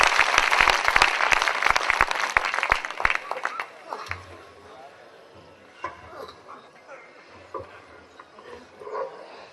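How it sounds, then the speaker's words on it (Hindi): Loud burst of audience clapping at a mushaira in Badayun welcoming poet Rahat Indori, strong for a few seconds, then fading into scattered claps and murmuring crowd chatter. "एक बार जोरदार तालियां बजाकर राहत इंदौरी साहब को बुलाइएगा।"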